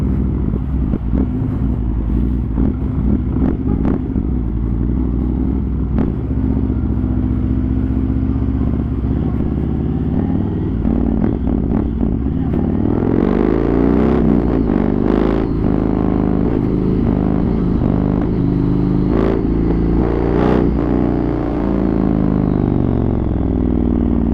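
A first-series Yamaha MT-01 with an Akrapovic exhaust rides close by, its big engine rumbling deep and steady, then revving harder with sharp bursts and a fuller roar midway through before settling back.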